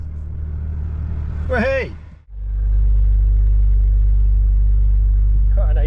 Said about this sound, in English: Quite a nice exhaust, no tone cold start.